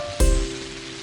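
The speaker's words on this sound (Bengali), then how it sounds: "যা বৃষ্টি হচ্ছে কদিন ধরে" Rain in Krishnanagar lands in a loud burst on a surface, then settles into a steady hiss with a low tonal hum running underneath.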